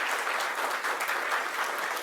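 An audience at an affordable housing announcement applauds Mayor Byron Brown with steady, crowded clapping throughout.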